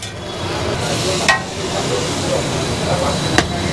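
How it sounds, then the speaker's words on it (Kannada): Eggs frying on a busy street-food griddle for egg mutton liver rice give a continuous sizzle with a couple of sharp metal clinks from the spatula, while people talk nearby. "ಅಣ್ಣ ಫಸ್ಟು ಮೊಟ್ಟೆ ಹಾಕಿ ಚೆನ್ನಾಗಿ ಬೇಯಿಸಿ"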